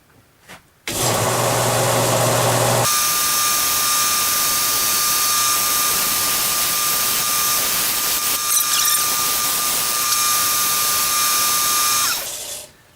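A wood lathe spins steadily as a gouge rides the bevel, an even loud whirring hum with a faint high tonal whine and continuous cutting hiss that runs for several seconds before winding down.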